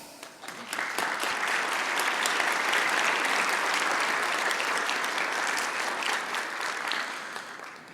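An audience at the AIAA Aviation Forum award presentation breaks into strong, dense applause that swells quickly, holds steady for several seconds and then fades.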